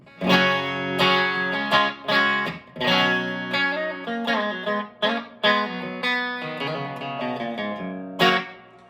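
Electric guitar clean tones through a Luna 15W prototype amp, bridge pickup with coil split and pretty reverb: loud picked chords and single notes in phrases with brief gaps, ringing out alone without any voice.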